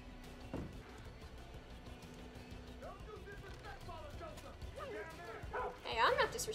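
In Far Cry 5, a dog companion struck by the player whimpers and yips with short, pitched cries rising toward the end, heard under a voice and game ambience.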